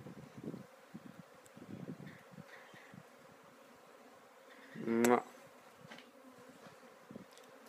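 Honey bees being removed from a travel trailer buzz in short intermittent bursts at low level, with one louder, closer buzzing pass near the middle.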